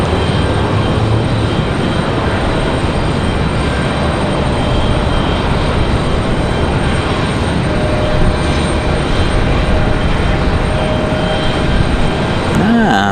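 Delta flight 1018 arriving at Raleigh-Durham International Airport, a loud, steady roar of jet engines that holds constant and close for the whole stretch, with no clear voices.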